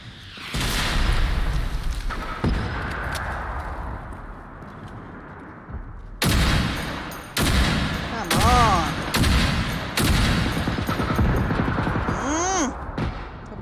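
Gunfire cracks and booms inside a warehouse in the game Generation Zero, with a long burst early, then a string of separate loud shots with heavy echo.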